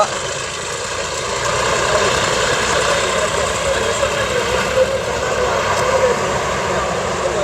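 A tractor and a motor pump running near a pond being drained, giving a loud, steady engine drone and rumble that continues without a break throughout.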